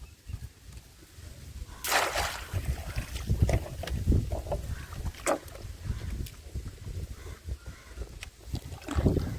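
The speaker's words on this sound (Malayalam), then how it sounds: "അങ്ങനെ നമ്മുടെ അയലയുടെ വള്ളം തുഴഞ്ഞോണ്ടിരിക്കുകയാണ്" A wooden country boat is rowed along on water while crab fishing in Kerala, with irregular splashes and knocks from the oars, soft water lapping and wind buffeting the microphone throughout.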